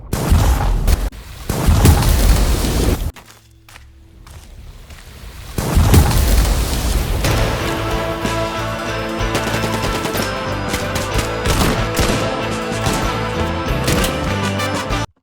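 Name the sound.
layered gunshot sound effects for a game trailer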